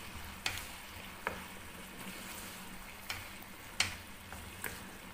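Chicken cashew stir-fry dusted with cornflour sizzles steadily in a pan while a spatula scrapes and taps against the metal every second or so, close and clear with no talking.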